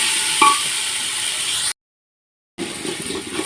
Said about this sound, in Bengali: চল একটু ভেজে ভেজে নিই